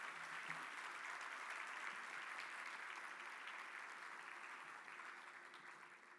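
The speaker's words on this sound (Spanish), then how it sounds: "Les pido que, por favor, hagan un aplauso para ellas tres," Audience applause at the closing session of the PPP Américas 2023 conference, a steady, dense wash of clapping from a large crowd that holds for several seconds and eases slightly toward the end.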